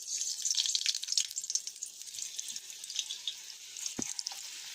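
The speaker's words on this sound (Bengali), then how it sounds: "তেলে ভেজে নেব ভালোভাবে।" Mung samli pitha deep-frying in a pan of hot oil, a steady bright crackling sizzle that stays fairly even throughout, with a brief low thump near the end.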